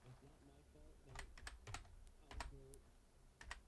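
Quick bursts of keystrokes on a computer keyboard during a gaming livestream, clustered in short irregular runs over a low background hum, close and moderately loud.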